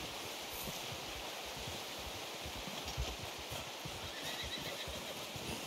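Horse sounds in the video game Red Dead Redemption 2: a steady, faint wash of hoofbeats and rustling outdoor ambience, with no clear standout neigh.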